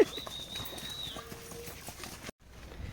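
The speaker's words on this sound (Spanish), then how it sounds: "aquí están los caballos que lo podrían haber traído" Horses' hooves clip-clop on a path near Tayrona beach in Colombia, a fairly close, steady run of hoof strikes with faint outdoor ambience, ending in a brief silence.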